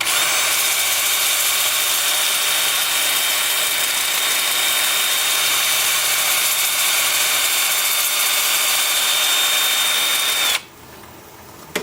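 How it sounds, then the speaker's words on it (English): A wood lathe spins driftwood at about 350 RPM, giving a steady, loud motor whine with a constant high tone that runs unbroken before cutting off abruptly near the end. "Then with the lathe spinning at about 350 RPM."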